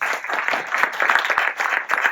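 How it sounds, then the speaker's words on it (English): Audience clapping at a security conference talk, a close, moderately sized round of applause with individual claps audible, steady throughout the short burst. "Please give a warm applause to Alexander."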